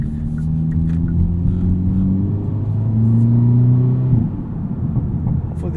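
A 2022 Hyundai Elantra N with a DCT drives along, its engine a steady, loud rumble with rising and falling harmonic tones that drop sharply near the end, as if shifting or lifting off, with no talk.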